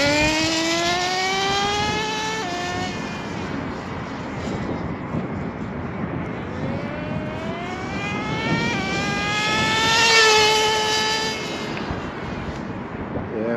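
A nitro-powered HPI RS4 radio-controlled car engine whines loudly and steadily, its pitch climbing and dropping through several revving sweeps, with a sharper surge of revs near the end.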